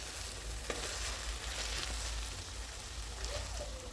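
Tunisian stuffed peppers filled with chicken fry in hot oil with a close, steady, crackling sizzle and scattered pops, and no one speaks.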